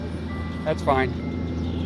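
A truck on the road behind a muddy waterside spot gives a steady low engine drone throughout, beneath a brief spoken phrase and a couple of higher tonal chirps.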